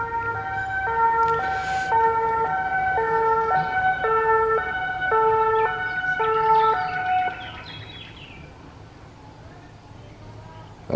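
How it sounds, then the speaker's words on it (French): An ambulance siren sounds outdoors near a vegetable garden with grapevines, a loud two-tone wail alternating in a regular rhythm before fading as it passes, with faint traffic beneath. "Ambulance."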